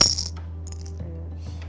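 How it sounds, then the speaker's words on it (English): Eight little dice drop onto a hard surface in a close-up magic trick, giving one sharp clattering hit followed by a few lighter ticks as they settle. Nobody speaks. "I'm going to make it multiply or explode into 8 little dice."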